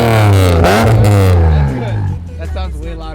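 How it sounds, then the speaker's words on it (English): A BMW M3 with an aftermarket exhaust revs loudly up close, its engine climbing and holding a strong harmonic roar before easing off to a lower idle, while people talk over it. "Rev it up."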